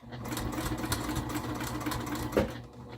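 Sewing machine running steadily as it stitches the last corner of an upcycled hot pod cover, a continuous close whirring hum for about three seconds with a brief louder clunk near the end.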